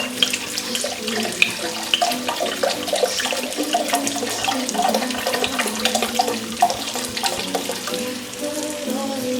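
Two cups of wine pour into a pot for French onion soup, a close, continuous splashing gurgle of liquid running steadily throughout.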